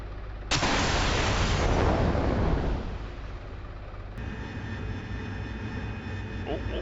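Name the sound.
AV-8B Harrier jet flyby in a flight simulator video game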